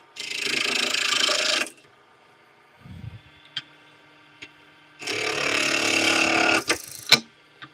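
A ratchet tool tightens something in a woodshop, with two longer bursts of clicking separated by quiet handling knocks and a few sharp taps, fairly faint.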